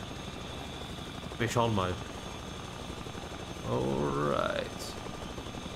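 Steady helicopter rotor and engine drone from the video game The Front runs throughout at moderate loudness, with two short spoken phrases layered over it.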